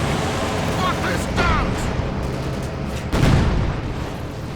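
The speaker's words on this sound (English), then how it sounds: "Another strafing run here." Aircraft strafing run over a battlefield in the video game Company of Heroes 2, heard as dense rumbling booms and gunfire bursts under continuous talk, with a louder impact near the end.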